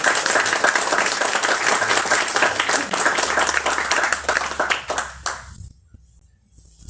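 An audience at a Chilean book launch in a bookstore applauds with dense, sustained clapping for about five seconds, then it thins out and fades to near quiet.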